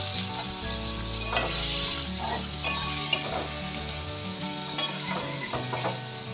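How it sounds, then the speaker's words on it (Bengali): Grated carrot and tomato go together into a hot pan for a semolina and yogurt dinner dish, sizzling steadily while a spoon scrapes and stirs them in repeated close strokes. "এবার দিয়ে দেবো গ্রেট করা গাজর আর টমেটো আমি একসাথেই দিয়ে দিই"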